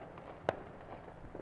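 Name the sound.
illegal fireworks exploding on a street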